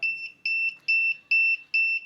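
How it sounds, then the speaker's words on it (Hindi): A fault alarm buzzer on a masala and salt packing machine sounds five loud, even, piercing electronic beeps in a steady repeating rhythm, each about a third of a second long. "इसके अंदर फॉल्ट अलार्म लगा दिया। जब भी कोई फॉल्ट आएगा तो ये अलार्म बजेगा।"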